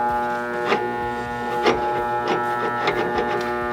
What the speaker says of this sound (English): I'm not sure if you can hear it, but the motor's on, but it is not moving